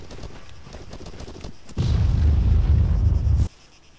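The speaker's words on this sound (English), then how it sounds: "More shots." Gunfire in the ARMA III video game: a few sharp reports early on, then a loud sustained burst of heavy firing or explosions lasting under two seconds before dropping back to quieter background.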